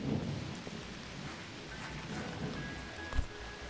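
Rain falls in the video game Garden Life as a steady, soft hiss of drops with faint low rumbles beneath it and no talking.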